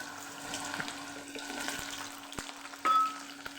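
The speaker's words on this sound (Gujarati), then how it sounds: "તેલ ગરમ થઈ ગયું છે તો આપણે એમાં પહેલાં ભીંડા ફ્રાય કરી લેવાના છે" Okra drops into hot oil for a Kathiyawadi stuffed bhindi dish, crackling and sizzling close by with a few sharp clicks and a short louder burst near the end, no voices.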